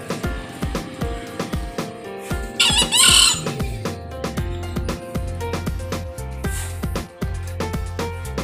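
Sharp, shrill green junglefowl calls ring out among repeated clucks and squeaks, over a busy background of mechanical clatter.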